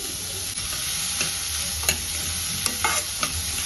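Finely chopped cabbage stir-frying with salt in a pan, a steady loud sizzle with a few soft scrapes and stirring clicks, close and without talk.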